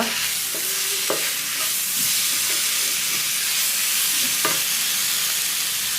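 Chopped banana fries with cardamom powder in a pan, a continuous sizzle and hiss with occasional scraping stirs of a spoon, close and steady throughout.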